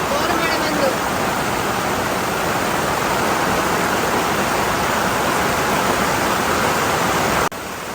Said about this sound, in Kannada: ಜೋರು ಮಳೆಗೆ ಹೋಗಿ ನೋಡಿ ಅಲ್ಲಿ